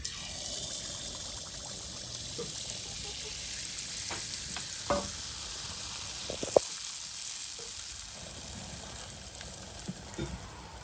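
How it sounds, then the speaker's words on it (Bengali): Pitha batter frying in hot oil in a wok, a steady bubbling sizzle running throughout with a few sharper crackles and spatters, close and moderately loud, no talking. "তেলের পিঠা বানানোর জন্য এটা বানানো হচ্ছে গোলাটা আর এই যে এখানে হচ্ছে কড়াইতে তেল দেওয়া আসছে গরম"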